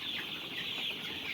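Young one-month-old Sonali chickens on a farm cluck and chirp softly in a steady, busy flock chatter, fairly faint and continuous throughout with no talking.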